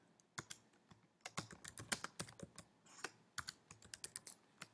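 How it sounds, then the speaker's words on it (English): Someone types a new document on a computer keyboard, producing bursts of fast, uneven key clicks with short pauses, close and clear, with no talking. "having trouble typing there"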